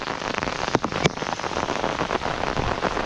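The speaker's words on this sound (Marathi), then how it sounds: "पाऊस खूपच आज हो बघा काय भरलो होतो बघा" Heavy monsoon rain pouring down and drumming on surfaces, a dense continuous roar with a few louder splashes and knocks near the start, no speech.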